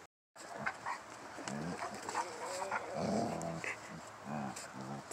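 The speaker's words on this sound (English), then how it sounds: "It's puppy playtime." Puppies play together with soft growls, grumbles and little yips, close by and fairly quiet, a busy scuffling mix of small canine noises throughout.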